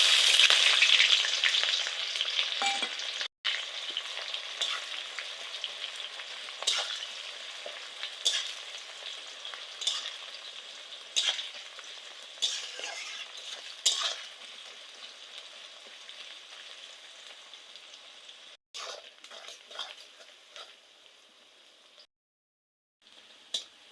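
Chopped onion sizzling and frying in a pan for mutton curry, a steady bright crackle with repeated scraping stir strokes, alone with no voices.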